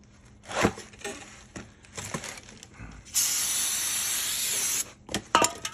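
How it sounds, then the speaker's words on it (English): Brake parts cleaner sprayed onto oily differential parts lets out one steady, loud aerosol hiss lasting nearly two seconds, with a few clicks and handling knocks before and after. "Little brake parts clean just to take the initial oil off of them."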